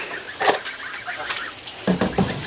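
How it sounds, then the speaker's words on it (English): Several short, harsh squawking calls from a rooster, one near 0.5 seconds and a cluster toward the end, close by inside a truck turned chicken coop, with a faint background hum. "Rooster."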